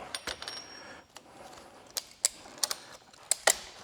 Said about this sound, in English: Two clicks on that, so it's starting to come loose.